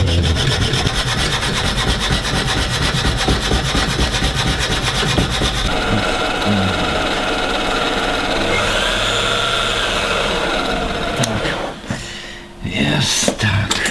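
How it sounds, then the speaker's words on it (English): Excess aluminium sticking out of a model ship part being cut away by hand with a saw, a steady rasping scrape running throughout, close and loud, thinning out briefly near the end. "He's just cutting the excess aluminium that's sticking out."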